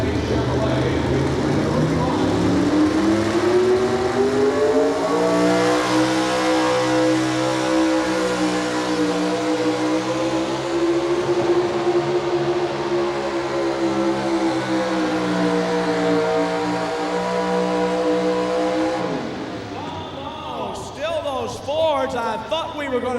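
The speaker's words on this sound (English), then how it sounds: "He had a little engine miss on the left bank as he was coming down." A Chevrolet pulling truck roars down the track at a 1989 National Farm Machinery Show truck and tractor pull, its loud engine note rising and falling as it nears and passes, with an announcer talking over it.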